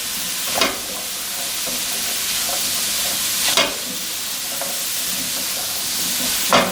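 Spices and tofu frying in a pan for a vegan Indian sabji, a steady sizzle broken by three sharp scraping stirs spread across the clip, close and fairly loud with no talking.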